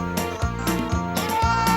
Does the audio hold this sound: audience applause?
no